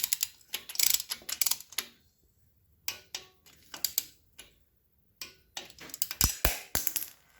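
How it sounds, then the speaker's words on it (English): Ratchet wrench tightening cylinder head bolts on a Harley-Davidson XR1200 motorcycle during head gasket reassembly, with close, crisp bursts of rapid clicking separated by short pauses, strokes speeding up toward the end. "now that they're all loose, we go back through and torque them all just like before"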